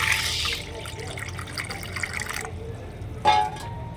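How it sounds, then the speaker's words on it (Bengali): Water runs from a tap into a bowl holding country duck eggs, a steady splashing trickle close by that fades out, with a brief brighter splash near the end. "এই দেখো আমি জল দিয়ে দিলাম"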